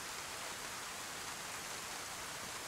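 Steady rain falls in the video game DayZ as a dense, even hiss of broadband noise that holds unchanged throughout, with no other sounds standing out.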